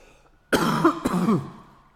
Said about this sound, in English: excuse me, terrible cough